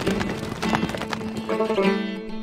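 Horse hooves galloping in the medieval strategy game Stronghold Crusader, a quick, steady clip-clop rhythm against a dense game soundscape with a music-like tonal bed.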